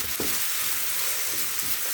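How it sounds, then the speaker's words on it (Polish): Garlic frying in a pan gives a steady broadband sizzle throughout, close and even, with a faint stir or scrape. "czosnek, który się smaży zbyt długo, zaczyna gorzknieć"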